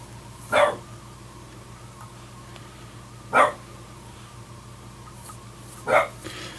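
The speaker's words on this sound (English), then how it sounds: "That's my Boston Terrier that's barking there." A Boston Terrier barks three times, single sharp barks spaced a few seconds apart, somewhat distant over a low steady hum.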